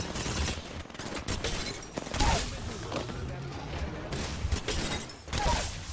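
Rapid, overlapping automatic gunfire in an Apex Legends battle, sustained and fairly loud with repeated impact thumps, while voices chatter underneath throughout.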